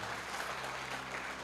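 A church congregation at a French-language sermon applauds in a brief, dense wash of clapping that stays even and fairly loud for its short span.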